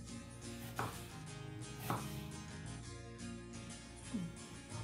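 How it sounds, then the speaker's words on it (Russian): A knife slices an onion into half-rings on a cutting board, with a few soft, evenly spaced cuts over a steady background of music. "Нарезаем лук полукольцами."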